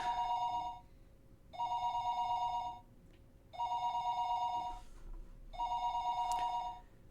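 A telephone ringback tone plays in the Higurashi visual novel game: four evenly spaced, bright, buzzing bursts of about a second each, separated by short silent gaps, clear and alone.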